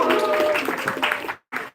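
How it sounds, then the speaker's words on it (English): A school event audience applauds a winning quiz team, a dense wash of clapping for over a second that stops, then a short second burst. "Give a round of applause to them."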